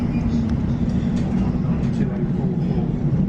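Class 92 electric locomotives pass through Watford Junction as double-headed freight, a steady, loud, close rumble of wheels and traction filling the whole stretch without a break.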